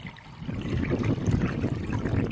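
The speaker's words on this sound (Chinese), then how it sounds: "在我的耳边呢，听到的是潺潺的流水声" A small, clear mountain creek near Chenjiazhuang village in Wutai County, Shanxi, burbles over stones in a steady, close babble of trickling water, with no voices.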